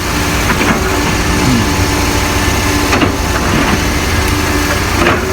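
A six-wheel truck at a Thai soil pit runs with a steady, loud mid-range engine drone, its pitch shifting slightly as it revs and idles, with no talk over it.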